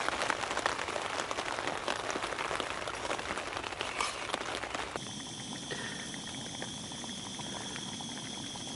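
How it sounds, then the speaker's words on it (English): Steady rain patters densely on a tent during a garden wild camp, a close continuous hiss that shifts to a softer, slightly muffled texture partway through, with no voices. "As you can probably hear, it is still raining."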